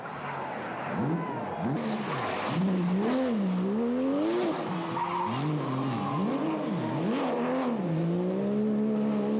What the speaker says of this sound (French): Regardez Marc Duhet, il surfe avec les limites de la GT3